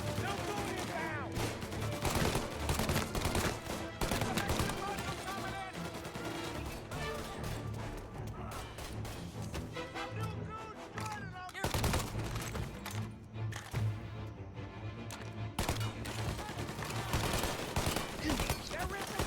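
Dense gunfire from the Mafia video game, with sustained automatic bursts and rapid shot volleys that run loud and nearly continuous throughout, layered with a game soundtrack and shouted voices.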